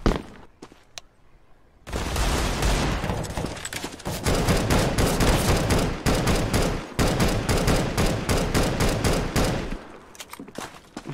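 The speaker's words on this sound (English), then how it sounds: "he's shooting into the ground" Counter-Strike gunfire, an enemy spraying rapid automatic shots into the ground, a dense loud burst lasting several seconds with a few isolated shots before and after.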